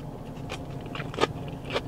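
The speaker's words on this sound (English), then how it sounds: "Take a taste of all the greens and stuff." Bites into beef flank look funn noodles topped with greens, cilantro, lettuce and roasted peanuts, giving three or four crisp, close crunches spaced across a short moment with no talking.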